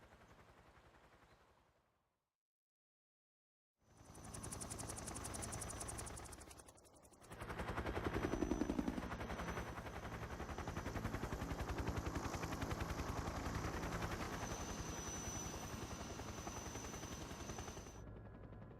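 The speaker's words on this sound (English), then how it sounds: "Helicopter." A helicopter in a video game gives a loud, continuous rotor chop that starts after a short silence and holds steady for about fifteen seconds, with a brief dip partway through.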